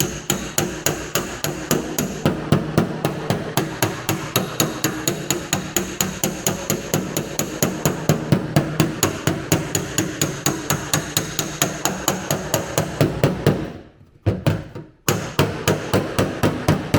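Steady hammer blows knocking dents out of the body metal on a 1970 Ford Mustang, a long, fast, even run of sharp metallic strikes close by, broken by a short pause near the end before the hammering resumes.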